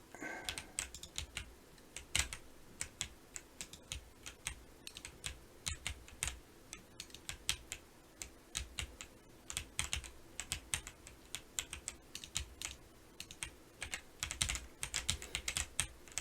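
Typing on an NZXT Function keyboard, a steady run of close, crisp key clicks with irregular rhythm and occasional louder presses, likely the spacebar, with no voices.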